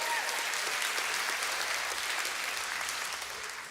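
Concert audience applauding steadily in a hall, a dense wash of clapping that holds at full strength for a few seconds before tapering off at the end.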